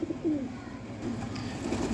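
Soft, low pigeon cooing repeats a few times close by, with a faint background hum.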